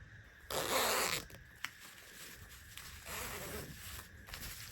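Zip puller being slid onto a zip for a fabric tote pouch, giving a quick close zipping rasp followed by fainter fiddling and soft rustling.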